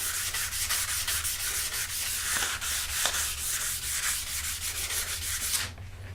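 Continuous rhythmic rubbing of 320-grit sandpaper on brass, steady back-and-forth strokes, close and fairly loud, stopping abruptly near the end.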